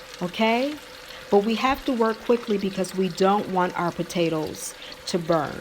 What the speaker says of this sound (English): I know you can probably hear the frying in the background.